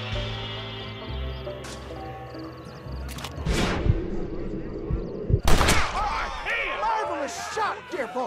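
Gunshots in the Red Dead Redemption video game, a few sharp cracks rising above voices and a music bed, with a louder cluster of shots near the end.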